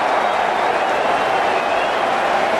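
A stadium crowd applauds and cheers in the cricket video game Cricket 19, a steady dense wash of clapping and crowd noise with no break throughout.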